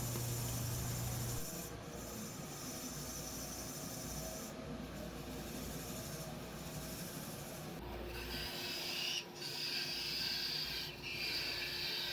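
Sandpaper rubs against a spinning maple spool box on a wood lathe, a continuous soft rasp over the lathe's steady whirring hum, faint and unbroken, with no speech.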